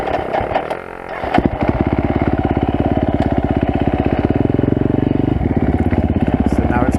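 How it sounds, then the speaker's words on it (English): A trail motorcycle engine idles close by with a steady, throbbing pulse while it waits near an off-road obstacle, with a short rev and clatter before the idle settles. "I'm just waiting for the two bikes in front to clear the next obstacle"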